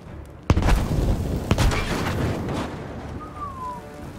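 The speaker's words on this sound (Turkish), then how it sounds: "Patlamaya bak şimdi." A loud boom of an explosion in Battlefield V followed by a second blast and a rumbling, crackling tail that slowly fades.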